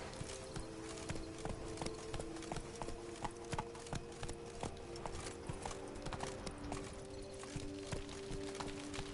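The horse Roach gallops in The Witcher 3: Wild Hunt, rapid rhythmic hoofbeats drumming steadily under a low ambient game soundtrack, with a faint whinny-like tone in the mix.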